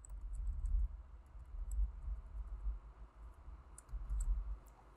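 Light clicking keystrokes on a computer keyboard as a username and password are entered, soft irregular taps over a low hum, near and fairly faint with no talking.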